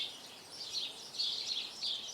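Small birds chirping in a garden: a few faint, high twittering calls recur in quick clusters at a distance, soft against a quiet background.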